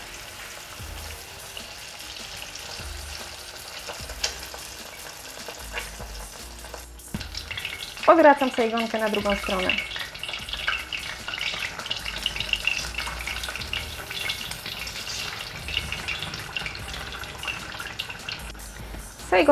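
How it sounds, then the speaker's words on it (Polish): Spring rolls fry in hot oil with a continuous bright sizzle, swelling louder as pieces are added or turned, while someone speaks briefly over the crackling. "mogę wkładać sajgonki na olej. Będę je smażyła na złoty kolor."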